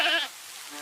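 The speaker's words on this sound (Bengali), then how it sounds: "ছাগলের ঘর থেকে কান্নার শব্দ আসছে কেন?" A cartoon goat bleats from inside the goat shed: one wavering, high, fairly loud cry that fades out within a second, with no talk over it.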